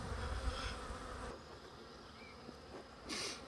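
Steady insect buzzing from a swarm of honey bees on a farm, louder at the start, fading to a softer hum, then swelling again near the end.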